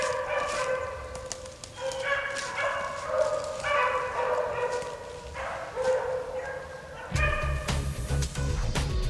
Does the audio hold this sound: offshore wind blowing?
no